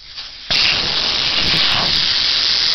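Air from a semi tire with the valve core removed, a loud sudden hiss that starts abruptly and continues steadily, close by.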